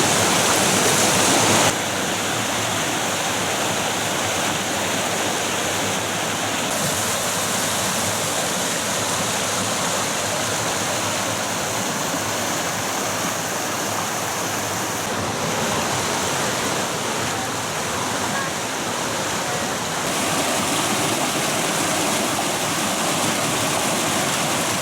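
Wyming Brook in the Peak District rushes loudly and continuously, a close, dense roar of tumbling water that holds steady for the whole stretch with no talking.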